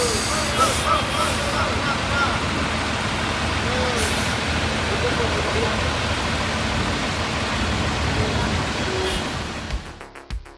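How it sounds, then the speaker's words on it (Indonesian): A sleeper tronton bus drives into the hold of a ferry on the Mataram to Bima route, a loud, steady engine rumble echoing in the enclosed deck before cutting off at the end. "busnya mulai bergerak memasuki lambung kapal"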